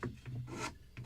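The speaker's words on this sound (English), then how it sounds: "I can start sanding these top timbers." Sandpaper rubbing along the wooden top timbers of a model ship of the 1776 gunboat Philadelphia, a close, steady raspy scraping in short repeated strokes with a low hum underneath.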